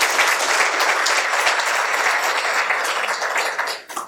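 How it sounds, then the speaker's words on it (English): A full audience at a program evaluation release event breaks into loud, dense applause for everyone who spoke, sustained steadily and tapering off at the end. "Please, could we give a big round of applause for everybody who spoke and shared their stories today?"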